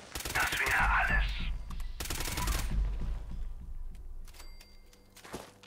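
A non-automatic weapon fires in Fallout 76, with several loud, spaced single shots and long decaying echoes over game ambience. Faint talk is heard.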